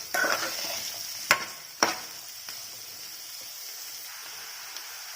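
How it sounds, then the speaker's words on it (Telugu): Chopped onions frying in a pan for a drumstick masala curry, a steady hissing sizzle close by with two sharp utensil knocks early on, then settling into an even crackle. "ఇవి లైట్ గోల్డెన్ బ్రౌన్ కలర్ వచ్చే వరకు ఫ్రై చేసుకోవాలి."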